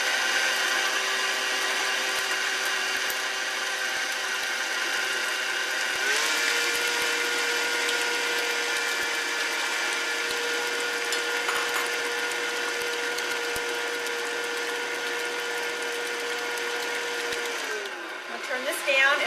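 An electric stand mixer beats red velvet cupcake batter with a steady motor whine, which steps to a different pitch partway through and winds down at the end.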